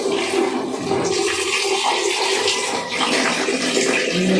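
Water runs steadily and loudly from a tap, a continuous rushing splash that fills the whole stretch without pause.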